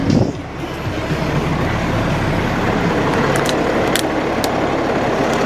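A 2005 Kenworth T300 truck with 358 gears idles steadily and smoothly, a continuous low rumble with faint higher ticks layered on top and no talk over it.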